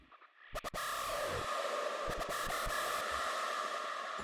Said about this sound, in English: without all the effects, the screech sounds like this